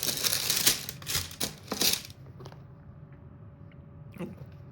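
Paper crinkles and rustles up close in a few quick bursts while a pair of Nike Dunk Low shoes in Oregon Ducks colors is unboxed, followed by quieter handling sounds and one more brief rustle.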